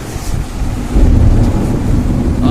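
Thunder during a lightning storm rolls as a loud, deep rumble that grows heavier after the first second and keeps grumbling to the end, with a faint wash of rain-like noise beneath.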